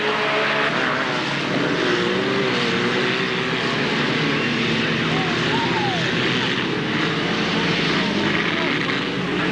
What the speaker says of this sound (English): the bangers are now rolling around for their second race of the afternoon